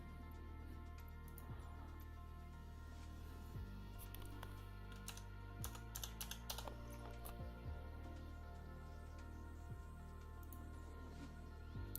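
Keys on a computer keyboard clatter in short quick bursts. The typing is faint and fairly distant over a steady hum and low background music, and no one speaks.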